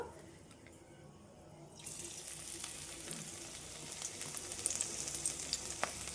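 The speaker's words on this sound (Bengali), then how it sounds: "তেলটা আমার গরম হয়ে গেছে আমি এবার পকোড়াগুলো ভেজে নেবো" Semolina pakoras drop into hot oil and begin frying, a soft hiss rising suddenly and holding as a steady close sizzle with faint pops.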